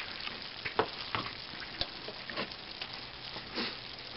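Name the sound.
gravy cooking and browning in a pan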